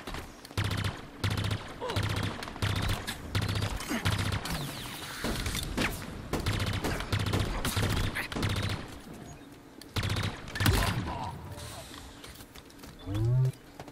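Bursts of automatic gunfire in Halo Infinite arena play on PC, rapid rhythmic volleys repeating through the clip, with a voice speaking briefly over it.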